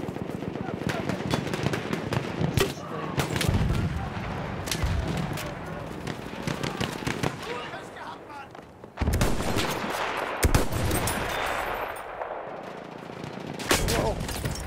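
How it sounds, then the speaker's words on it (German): Loud, sharp shots from a carbine sniper rifle in a video game, several bursts cutting through continuous battle noise with abrupt gaps and dropouts. "Dann Schuss"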